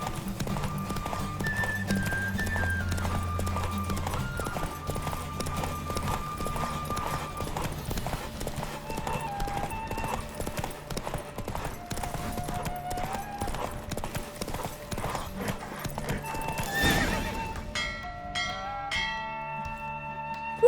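Rhythmic hoofbeats of a horse galloping in The Witcher 3 video game, with a whinny and ringing bells over game music, ending in a louder burst.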